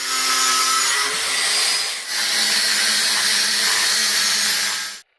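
A power tool cuts through a metal exhaust pipe in a harsh, continuous grinding screech, pausing briefly midway and then resuming before stopping abruptly.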